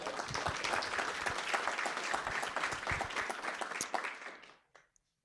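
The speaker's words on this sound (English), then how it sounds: "one more round of applause for all of the leaders" Audience applause for the leaders at a 2025 leadership talk: a full room claps loudly and steadily for about four seconds, then it tapers off quickly into silence.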